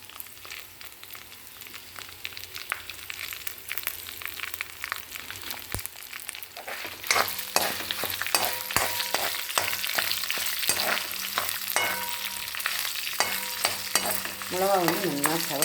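Dried red chilies, about 25 broken pieces, fry in oil for tamarind rice seasoning while a spatula stirs them: a quiet sizzle at first, then a louder, steady crackling hiss with repeated scraping strokes.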